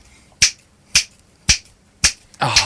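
Five crisp finger snaps at a steady, even pace, each a sharp close click, the last one followed by a brief rustle.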